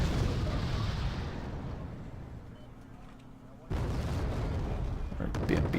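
Artillery fire in a war strategy game lands on a mortar position, heavy booms and rumbling blasts fading, then a sharp new burst of explosive impacts; faint talk sits underneath.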